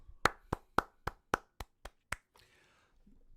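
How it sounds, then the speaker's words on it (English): Eight sparse, evenly spaced hand claps ring out one at a time, a slow golf clap in a quiet room, followed by a faint rustle and a short low thud. "golf clap for Justice"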